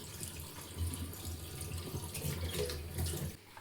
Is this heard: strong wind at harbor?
no